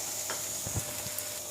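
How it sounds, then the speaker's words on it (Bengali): Sliced potatoes for aloo bhaja sizzle steadily in a pan on a medium flame, and a few soft stirring scrapes sound close by. The frying is short and continuous, with no talking. "এবার আমি ভাজা ভাজা করব আলুটাকে।"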